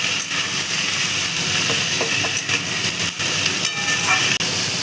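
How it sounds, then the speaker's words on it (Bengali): Sliced potatoes and onions fry together in hot oil, giving a steady loud hiss and crackle throughout, with a few brief clinks. "এবার আলু আর পেঁয়াজটাকে একসঙ্গে ভেজে নেব।"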